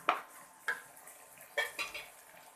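Metal lid clinks onto a pot of Bengali egg and potato curry on the stove, several sharp knocks and clatters close by in a quiet kitchen.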